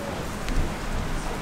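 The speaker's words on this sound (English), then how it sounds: "it's raining outside" Rain falls outdoors as a steady, even hiss that fills the whole moment, with no clear individual drops or voices standing out.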